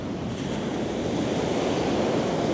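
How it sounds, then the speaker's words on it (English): Huge ocean waves break and roll at Nazaré, Portugal, as a dense, continuous roar of surf heard with strong wind buffeting the microphone. "Waves are still looking massive."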